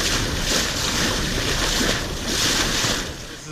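An Oceanis 60 sailboat under way at sea, heading south at about seven knots, with a continuous loud rush of water and wind swelling and easing in slow waves, close to the microphone and without talk.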